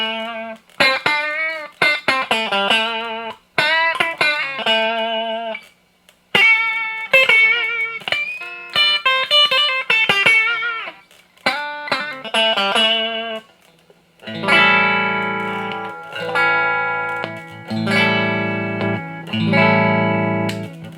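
Stratocaster electric guitar played through its bridge pickup, a bright twangy tone with quick picked notes and short phrases separated by brief pauses, ending in louder, fuller sustained chords.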